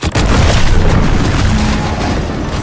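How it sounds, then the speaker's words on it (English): A loud, close explosion in the video game The Outer Worlds 2, a heavy booming blast followed by a sustained roaring rumble that slowly fades. "What's that? An explosion?"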